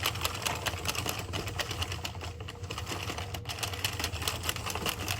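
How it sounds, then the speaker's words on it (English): A knitting machine carriage runs back and forth knitting rows, giving a dense, continuous mechanical clatter of rapid clicks over a low whirring hum. It is steady and close, with no talking. "we are going to just knit a few rows"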